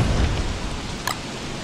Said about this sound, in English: The rain makes Wolfgang sad.